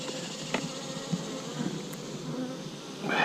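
Honeybees humming steadily inside an opened hive, a dense continuous buzz close by with individual bees flitting past, and no voices.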